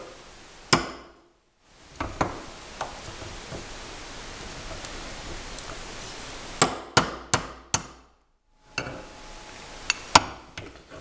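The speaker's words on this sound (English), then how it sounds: "It comes with a tool to smack the rivets with." Sharp metallic hammer strikes on rivets in bursts, a few single blows then a quick run of five, over a steady background hiss.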